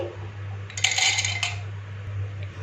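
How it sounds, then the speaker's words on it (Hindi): Whole almonds tumble into a kitchen chopper bowl in a brief clattering burst of small hard pieces hitting plastic, close and distinct over a steady low electrical hum, with no talking. "सबसे पहले बादाम को चॉपर में डालेंगे"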